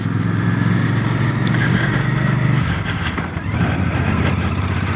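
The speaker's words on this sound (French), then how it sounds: "j'ai beaucoup de plaisir à rouler sur cette BR Royal Enfield 650 avec son moteur" Engine of a Royal Enfield 650 motorcycle under way on a country ride in Limousin, France, a loud steady rumbling drone that drops in pitch briefly partway through, with no talking.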